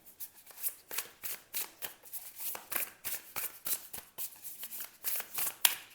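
A deck of tarot cards is shuffled by hand at close range, with rapid rhythmic riffling and soft slaps of cards being cut and drawn, quiet and with no one speaking.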